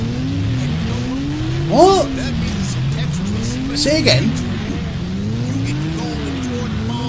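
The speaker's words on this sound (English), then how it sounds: "What's with the bloody engines?" Car engines in the Rage 2 video game drone loudly and rise and fall in repeated revving cycles, with two brief tire squeals cutting through. A voice speaks briefly over the engine noise.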